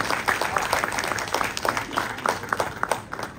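A theatre audience claps for the backstage crew after a stage monologue show, a modest round of applause with distinct individual claps at an uneven rhythm, fairly close.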